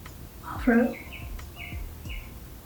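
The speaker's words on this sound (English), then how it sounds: "I swear that bird just started talking out of nowhere." A bird gives a loud, close chirp followed by several softer whistled calls, with faint background noise.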